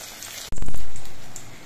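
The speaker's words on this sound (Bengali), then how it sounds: "একে একে আমি সবগুলো ভেলায় ভেজে নিয়েছি।" Water lily (shapla) fritters drop into hot oil, setting off a sudden loud crackling sizzle that holds briefly and then slowly fades.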